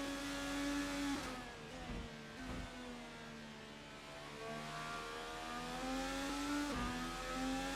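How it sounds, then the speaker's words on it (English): IndyCar race cars in a racing video game, set at Barber Motorsport Park, whine steadily with engine revs rising and dipping as they pass over bumps, fairly loud and continuous with no talk. "Just hear the cars just picking up the revs just as they go over the bumps there in that"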